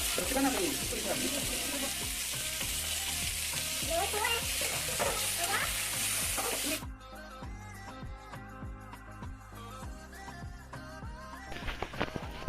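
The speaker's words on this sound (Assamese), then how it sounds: "ইয়াত দি দিব মাছখিনি এনেকৈ ভাজি খাবলৈ ভাল লাগে" Fish frying with onion and green chilli in a pan, a loud, dense sizzle with stirring scrapes for the first half, then quieter crackling and spatter continuing alone.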